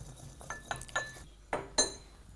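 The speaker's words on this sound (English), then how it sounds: "in a pestle and mortar or a coffee grinder, just need to lightly crush them" Roasted cumin seeds are lightly crushed in a pestle and mortar, giving a few sharp clinking taps and grinding knocks at an uneven pace, close and fairly quiet.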